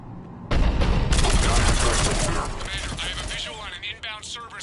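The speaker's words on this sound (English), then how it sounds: "The cannon fire is clearing the way." Rapid, heavy cannon fire and gunfire in the Mass Effect 3 video game during a battle against a Cerberus cruiser, with loud dense bursts that ease off into scattered shots and voices underneath.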